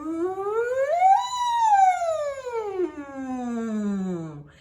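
A voice imitates a siren, sliding smoothly up from low to high and then gliding back down in one long continuous sweep.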